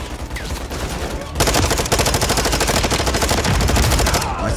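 Sustained automatic machine-gun fire from the video game Call of Duty Modern Warfare 3, loud and dense with rapid repeating bursts that intensify after the first second and run almost continuously.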